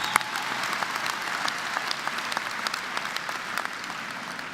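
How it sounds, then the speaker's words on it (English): An audience at a college distinguished alumni event gives steady, even applause, a continuous crackle of many hands clapping at moderate distance with no voices over it. "I think you can probably give up a little applause for 48 years."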